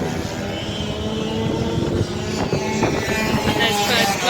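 Honda CBR125 motorcycles racing at Mallory Park in a Streetstock race, a steady loud engine drone with rising and falling revs and wind buffeting on the microphone throughout.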